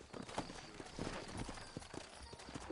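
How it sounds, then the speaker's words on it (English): Steady clip-clop of saddled horse hooves walking at an even pace in a Red Dead video game, close by, with faint background ambience and no talking. "I got the horses saddled up and ready out front."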